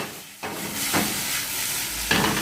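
Fish cooked with curry, coconut oil, peppers and onions sizzles loudly in a pan. Hissing swells as ingredients hit the hot oil, with scraping stirs and no talking.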